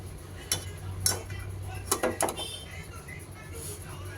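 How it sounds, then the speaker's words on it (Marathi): Roasted homemade baby cereal being moved into a vessel: a few sharp metal clinks and scrapes, irregularly spaced, over a low background hum. "आपण एका भांड्यात काढून घेणार आहोत।"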